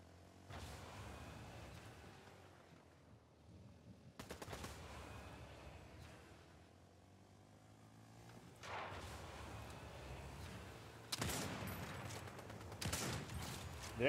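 Gunfire in the battle-royale game Fortnite, with several bursts of rapid shots and sharp impacts at moderate loudness. The fire comes in separate clusters over a steady background, and the last few seconds are louder and denser.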